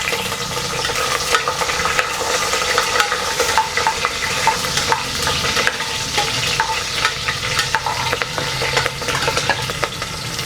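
Green chilies for tomato rice fry in hot oil with curry leaves, a dense crackling sizzle up close, while a utensil scrapes and stirs the pan in frequent quick strokes and no one talks.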